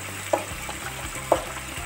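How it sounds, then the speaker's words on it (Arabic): Onions for Egyptian koshari frying in oil in a pan, a soft steady sizzle with two brief light clatters, no voices. "نقول بسم الله وننزل بالبصل في الزيت."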